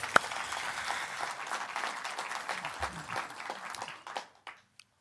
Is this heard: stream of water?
no